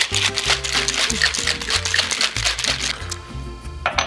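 A cocktail shaker full of margarita and ice rattles in quick repeated bursts, loud and close, over background music.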